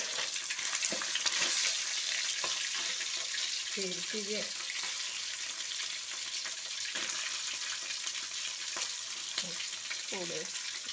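Chicken frying in a pan for biryani, a constant loud sizzle with occasional stirring clatter, as someone talks in short bursts over it.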